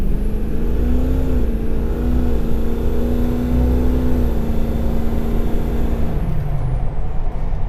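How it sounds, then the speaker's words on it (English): A 6.0 Powerstroke diesel truck pulls hard under load, a steady droning engine note holding pitch before dropping as it shifts, with an air-rush hiss near the end. "It is absolutely amazing how hard this truck is pulling right now."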